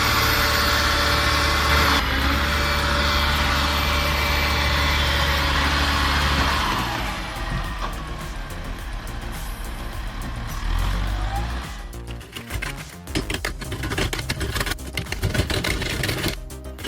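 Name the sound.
LKT-81 turbo forestry skidder engine dragging logs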